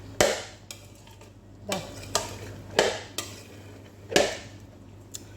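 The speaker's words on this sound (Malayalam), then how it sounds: "അപ്പോൾ ഇതെല്ലാം കൂടെ ഇട്ടിട്ട് ഒരു ഇളക്കം കൊടുക്കാം" Beetroot salad ingredients being tossed together in a bowl: a series of distinct, fairly loud clacks and scrapes of a utensil against the dish, about seven spaced strikes over several seconds with quiet pauses between.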